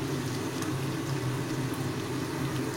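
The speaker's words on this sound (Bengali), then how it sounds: "সর্ষের তেলটা গরম হয়ে গেছে। এবার আমি এর মধ্যে দিয়ে দেব হলুদ গুঁড়ো, কাশ্মীরি মির্চ পাউডার," Turmeric and Kashmiri chili powder sizzle in hot mustard oil, a close, steady, dense crackle that stays even and alone with no pauses.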